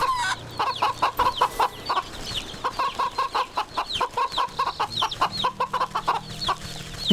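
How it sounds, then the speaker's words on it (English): Chickens cluck in the farmyard of the video game Wytchwood, a rapid run of short, close clucks in uneven bursts over a low background hum, with no talking. "Oh, we can interact with the chicken."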